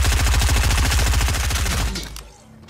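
Rapid burst of gunfire in the video game Fortnite, a dense rattling string of close, loud shots that cuts off abruptly, followed by a brief tail of fading echo.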